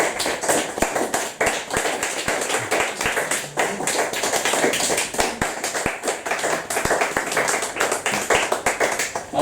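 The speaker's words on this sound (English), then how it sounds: "More applause, please." A live audience at a poetry show applauds loudly and steadily after a spoken-word set, dense close clapping with sharp individual claps sustained throughout.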